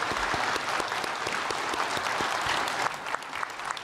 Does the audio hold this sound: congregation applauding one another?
yes